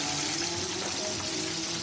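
Whole snapper fish frying in hot oil in a pan, giving a steady, dense hiss and sizzle that stays even from start to finish, heard close and alone.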